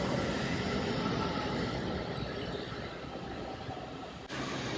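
A Washington D.C. Metro train rumbles steadily along the rails, a dense, continuous roar of wheels and car noise that eases slightly midway, with a brief dip near the end and no talking.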